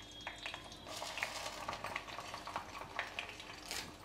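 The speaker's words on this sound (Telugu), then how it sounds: "నూనె కాగుతుందండి, మెంతులు ఆవాలు వేసేసుకుంటున్నా" Fenugreek and mustard seeds sizzle and crackle in hot oil in a home kitchen while a mango pickle is made, giving a soft steady frying hiss dotted with small pops and light stirring clinks.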